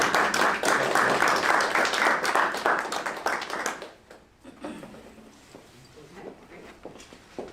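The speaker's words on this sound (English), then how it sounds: "Maybe we could do a round of applause for all of our elected members." An audience at a school board meeting claps for newly elected board members, brisk and full for about four seconds, then thinning to a few scattered claps and quiet room noise.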